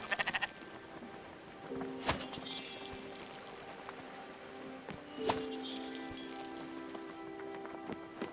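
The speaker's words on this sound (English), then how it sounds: "Obsessively shear the sheep." Sheep in the video game Spiritfarer bleat twice, soft wavering calls a few seconds apart over a quiet, airy game background.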